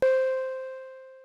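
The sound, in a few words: sampled flute note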